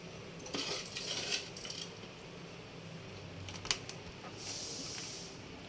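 A spoon scrapes and clinks against a bowl while stirring a homemade ice cream mixture, with soft irregular taps and scrapes, fairly quiet and close, with no voices.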